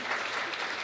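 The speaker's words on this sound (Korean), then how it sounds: "여러분들 축하의 박수를 한번 쳐주시고" Wedding guests at a ceremony clapping in congratulation, a dense, even burst of applause from a crowd, brief and continuous throughout.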